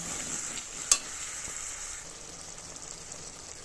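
Kochur loti (taro stolons) and potato curry simmering in a pan with the gravy nearly cooked down, giving a faint, steady sizzling hiss with one brief click near the start.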